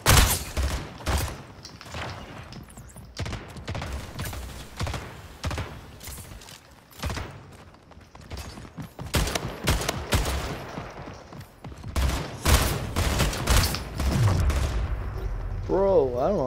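Rapid shotgun fire in Splitgate, with repeated loud, punchy blasts in quick irregular bursts among other gunfire and thuds, and a voice talking over parts of it.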